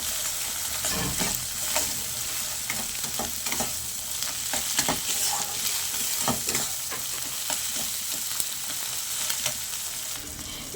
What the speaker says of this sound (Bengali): এবার সব কিছু একসঙ্গে খুব ভালো করে আমি নাড়াচাড়া করে নেব।